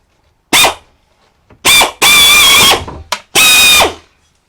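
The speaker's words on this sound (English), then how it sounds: "take the drill bit that you drilled the hole with and just stick it down there and drill the top of it" A power drill bit grinds the head off a pop rivet, a blind rivet, in several loud, close bursts of whining drilling, with short pauses between them and a longer run in the middle.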